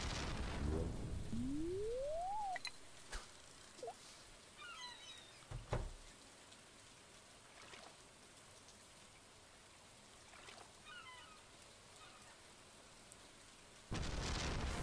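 Rain falls steadily in Stardew Valley during a storm, with sharp lightning cracks and a low thunder rumble, plus a rising game tone and a few small interface chimes.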